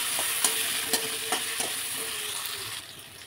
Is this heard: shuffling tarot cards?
no